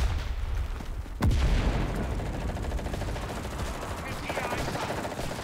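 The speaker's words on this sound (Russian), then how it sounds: "Наш танкист тут стреляет." A tank gun in the WW2 shooter Enlisted fires with one loud, heavy boom followed by a rolling rumble and ongoing battlefield noise, with voices talking underneath.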